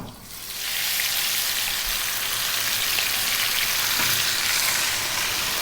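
Shrimp dropped into 3 to 4 tablespoons of hot corn oil in a wok over high heat, frying with a loud, steady, even sizzle that starts at once and holds throughout.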